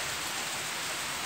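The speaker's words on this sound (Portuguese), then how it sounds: "Muita chuva, viu?" Heavy rain pouring steadily during an afternoon storm, a dense, even hiss of water with no pauses, loud and close throughout.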